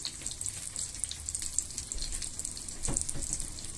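Brick pastries filled with minced meat fry in a pan over low heat, giving a soft, steady crackling sizzle with small pops and a brief louder burst near the end.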